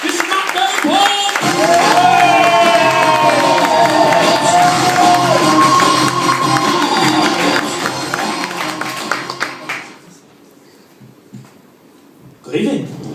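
A comedy club audience at the Frog and Bucket in Preston claps, cheers and whoops loudly for about ten seconds, then falls quiet before a fresh burst at the end, with a voice speaking over the crowd.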